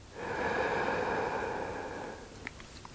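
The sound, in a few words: slow deep abdominal breathing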